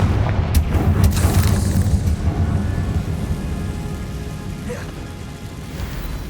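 A Confringo fire spell bursts in Hogwarts Legacy with a deep booming blast up front, followed by a rumbling, crackling tail that slowly fades under faint ambient game sound.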